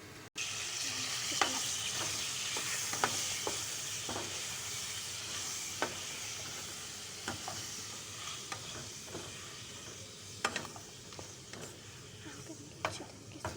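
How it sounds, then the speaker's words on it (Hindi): Chicken frying in two to three spoons of hot ghee, a steady sizzle and hiss filling the pan while a spoon stirs it with occasional light clinks, close and continuous with no talking. "अब हम इसमें चिकन ऐड करेंगे। इसमें हमने चिकन ऐड कर दिए रखें। अब हम इसे फ्राई करेंगे।"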